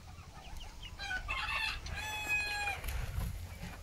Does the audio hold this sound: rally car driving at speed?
no